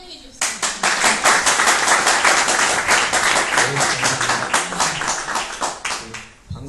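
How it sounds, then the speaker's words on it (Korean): An audience at a lecture seminar claps in steady, dense applause that starts abruptly and holds loud throughout, welcoming a professor, with voices faintly mixed in beneath. "교수님께 큰 박수로 좀 환영해 주셨으면"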